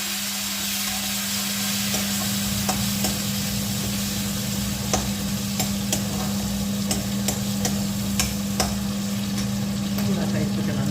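Onion, garlic, ginger and freshly added tomatoes sizzle in a pan, a loud, steady frying hiss with a constant hum beneath and scattered sharp crackles and pops throughout, close by and uninterrupted.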